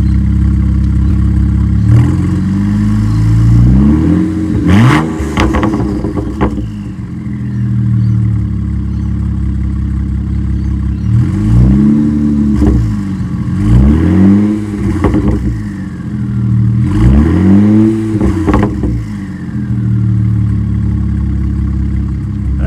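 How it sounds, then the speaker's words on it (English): BMW 335i E92 engine revved repeatedly in bursts, rising and falling sweeps over a steady idle, close and loud, with no talking. "Alright, I'll go and give it a rev."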